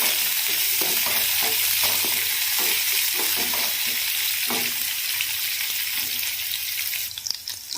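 Chopped onion and green chillies fry in a pan with garlic, a dense continuous sizzle broken by repeated scraping stirs, with a faint splash of water near the end.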